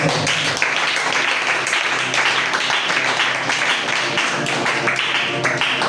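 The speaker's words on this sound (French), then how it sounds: "Acclame très fort." A church congregation applauding and cheering during a Thursday worship service, with loud, continuous clapping and crowd noise filling several seconds.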